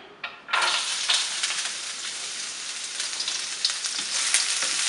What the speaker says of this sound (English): I put about a tablespoon of coconut oil into the pan. Let it get hot. And then we'll add in our onion.